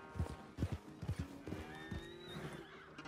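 A horse in the video game Red Dead Redemption 2 whinnies while its hooves clip-clop in a quick, uneven run of close, clear strikes, with a faint background bed underneath.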